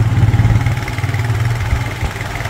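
Motorcycle engine idling on a mountain road near Leh heading toward Khardung La, a close, loud low throbbing with a steady rhythmic pulse that settles into an even idle.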